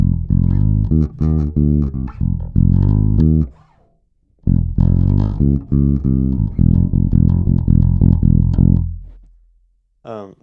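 Four-string electric bass playing the Glory chorus in its low octave, a run of deep plucked notes with a short pause midway, loud and close with no talking over it.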